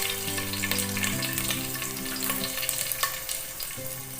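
Dried red chilies, curry leaves and turmeric fry in hot oil for a tempering, a steady close sizzle with crackles and stirring scrapes, alone with no voices, in a Telugu festival offering recipe.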